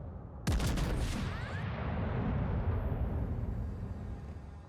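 Ship cannon fire in the naval video game World of Warships Legends: one loud, sharp blast with a rumbling tail, followed by a sustained low roar and booming that lasts several seconds.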